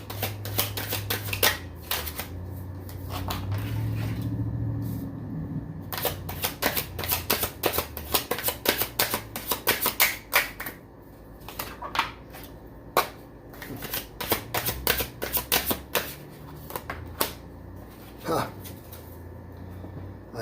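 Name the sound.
shuffling tarot cards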